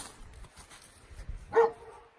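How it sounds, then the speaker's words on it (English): A dog barks furiously in a single loud, sharp burst near the end, after a stretch of faint background noise, heard during the parting-out of a 1973 Ford Gran Torino. "Dog's going ballistic."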